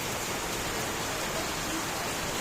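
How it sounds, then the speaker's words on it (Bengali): Rain pours down in a dense, continuous hiss, an even wash of falling water with no voices. "বৃষ্টির আওয়াজ আমার ভীষণ ভালো লাগে, তাই কিছুটা আমি ক্যামেরা বন্দি করলাম"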